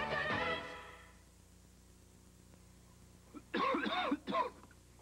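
A person gives a harsh cough and throat clear in a cough medicine commercial, one loud burst at the start, then quiet, followed by two short rough coughs near the end.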